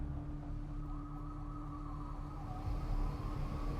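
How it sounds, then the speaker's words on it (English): Wailing sirens in the video game Life Is Strange Reunion sound steadily amid a dense, low rumbling ambience, with no speech over them. "I hear sirens."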